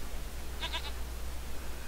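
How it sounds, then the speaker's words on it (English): A goat in Age of Empires III gives a short, faint bleat in a few quick wavering pulses, heard alone over a low steady hum. "Zoe actually has quite a few goats."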